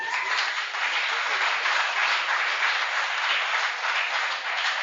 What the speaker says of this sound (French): Je peux déjà vous demander d'applaudir très fort pour cette bénédiction.